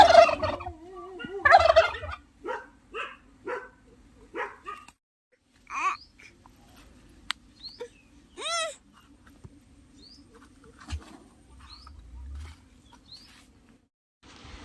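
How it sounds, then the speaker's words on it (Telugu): Turkeys gobble and call repeatedly in a mango orchard, a series of loud, rising, warbling bursts near at first and then fainter and more spaced out, with quiet gaps between them. "చూడండి ఈ కోళ్ళు వీటిని నిప్పు కోళ్ళు అంటారో ఏమంటారో మాకైతే తెలియదు"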